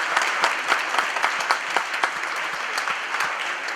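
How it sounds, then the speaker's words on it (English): Audience at a live entrepreneur pitch show breaks into a steady round of applause that holds for the whole stretch, dense and fairly loud, with individual sharper claps popping out of the wash. "big round of applause for Olivia Schlosser and Petunia"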